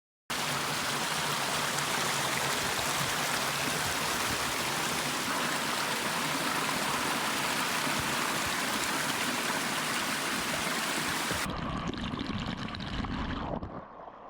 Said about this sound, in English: let's listen in on the sounds of this beautiful waterfall we created